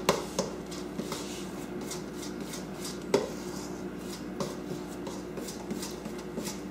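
Banana cake batter being mixed with flour in a bowl: a steady run of soft scraping strokes with occasional sharper clinks of utensil against the bowl, close and moderately quiet, with no talking.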